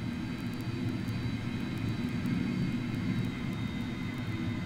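A Fokker 100 jet airliner in a flight simulator game gives off a steady, moderately loud jet engine roar with a constant whine, and faint ticking clicks sit above it.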